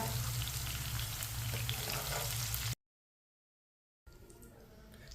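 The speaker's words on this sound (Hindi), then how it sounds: "आप देख सकते हैं भिंडियाँ हमारी फ्राई हो चुकी हैं।" Bhindi (okra) fries in hot oil with a dense, loud, steady sizzle that cuts off abruptly partway through, then returns as a fainter hiss after a silent gap.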